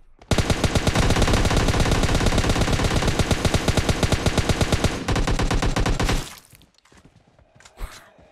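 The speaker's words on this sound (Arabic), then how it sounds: "طلقات يا عيال." Rapid automatic gunfire in PUBG Mobile's zombie mode rattles in a dense, loud, continuous burst for about six seconds, then cuts off, leaving a few faint clicks and a thud.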